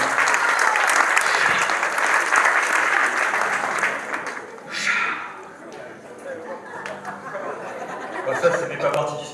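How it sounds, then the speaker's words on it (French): Audience at a magic show bursting into dense applause for several seconds, then trailing off into scattered chuckles and laughter as a voice speaks. "vous allez enfin pouvoir applaudir et commencer le spectacle"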